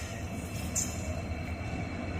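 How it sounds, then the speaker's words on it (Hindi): An EMD WDP4D diesel locomotive hauling a train: a steady, low rumble of engine and rolling stock, even and continuous, without talk. "मेरा फेवरेट लोकोमोटिव आ रहा है EMD।"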